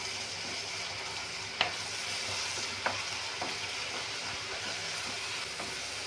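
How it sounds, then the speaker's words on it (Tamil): Tamarind water simmering in a pan of fish pickle, a steady bubbling sizzle with faint stirring and a couple of soft clinks, close and continuous with no talking. "புளித்தண்ணீர் பச்சை வாசனை போகும் வரை நன்றாக கொதிக்க விடவும்."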